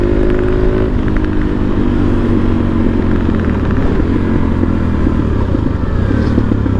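A Yamaha XSR 700 motorcycle engine drones steadily while riding, a loud continuous rumble with a shift in tone after a second and wind noise throughout.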